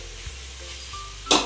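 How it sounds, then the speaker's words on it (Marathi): Pulav ingredients frying in a pan, a soft low sizzle with light stirring scrapes and one brief louder burst near the end. "ते फ्राय होतं सर्व मटेरियल याच्यामध्ये"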